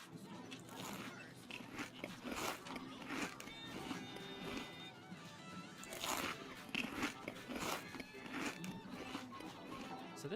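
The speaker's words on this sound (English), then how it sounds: "So this munching sound was from the Ticket Muncher. It was all bassy and distorted." Munching sounds from a Chuck E. Cheese Ticket Muncher, bassy and distorted, a repeating series of crunchy, grinding chomps in rhythmic bursts with brief tonal whines between them, fairly loud and continuous throughout.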